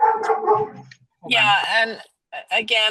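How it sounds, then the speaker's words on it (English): A dog yips and whimpers in the background of a video call, short high-pitched bursts mixed with a person talking close to the microphone. "I'm so sorry about my dog"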